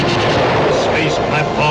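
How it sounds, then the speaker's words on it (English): A movie sound effect of a cosmic blast atomizing a rocket ship: a loud, dense roaring rumble of explosion-like noise that holds steady throughout, with voices mixed in. "The Great One himself sends the cosmic blast. Then atomizes rocket ship."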